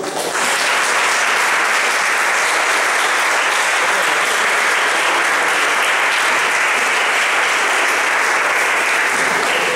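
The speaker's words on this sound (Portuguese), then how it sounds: "Aplauda a Deus" A church congregation applauds God during a worship service, a dense, loud, steady roar of many hands clapping that starts abruptly and holds for the full stretch without a break.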